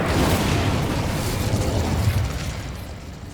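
A fiery Confringo spell blast in the video game Hogwarts Legacy, a loud booming burst that rumbles on and slowly fades over a few seconds, with no voices.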